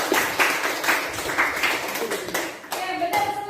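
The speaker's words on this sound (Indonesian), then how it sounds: "berikan aplaus untuk kita semua" Classroom applause from a group of students, several bursts of hand clapping close by, fairly loud and steady, with a teacher's voice briefly heard among it.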